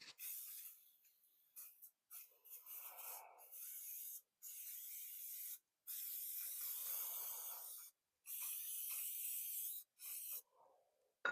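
Short repeated hissing bursts of cooking spray coating baking pans set on a baking sheet, several sprays of a few seconds each separated by brief pauses, close and alone.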